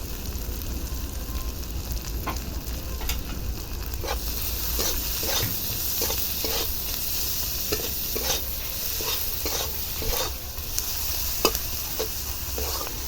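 Chopped onion frying with salt in a pan gives a steady sizzle, with repeated stirring scrapes and clinks from a utensil coming through at fairly regular intervals, all close by and with no talking.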